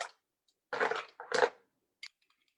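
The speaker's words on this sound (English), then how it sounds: "We'll now fill up this glass" Ice goes into a drinking glass while a Brazilian drink is made in a home kitchen, two crunchy rattling bursts up close followed by a small clink, with no talk over it.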